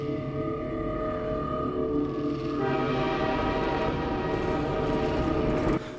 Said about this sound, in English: A train heading towards, well, somewhere.